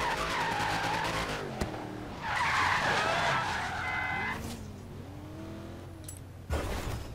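A car in the Forza Horizon 3 racing game drifts with loud, sustained tire squeal over a revving engine, the skid rising and fading in long sweeps, no talk.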